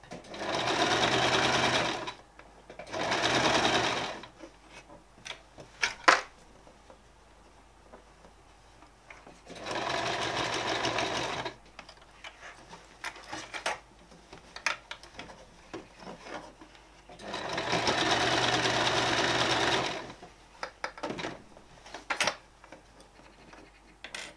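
A sewing machine stitches a shirt sleeve in several separate bursts of rapid, rhythmic needle chatter, with quiet pauses between filled by small handling clicks and fabric rustles.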